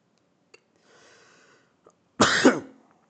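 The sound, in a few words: coughing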